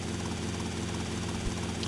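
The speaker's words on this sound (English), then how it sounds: "And we are in a helicopter." A helicopter in GTA Vice City drones with a steady rotor chop and engine whine, loud and continuous from start to finish.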